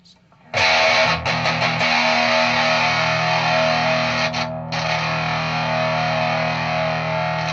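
Electric guitar played through a Boss distortion pedal, thick saturated chords ringing loud and sustained after a quiet start, with one brief dip midway before the fuzzy wall of tone returns.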